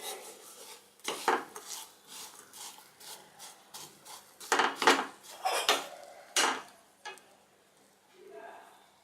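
A utensil stirs melting jaggery in a pan, making a run of scraping, rubbing strokes with clinks against the metal, fairly close and uneven in rhythm, then trailing off into quieter scrapes.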